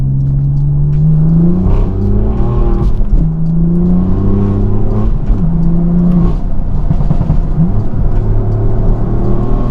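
A BMW F82 M4 Competition coupe in Sport Plus mode accelerates on a back road, its engine droning loudly and climbing in pitch through repeated surges, heard from inside the car without talking.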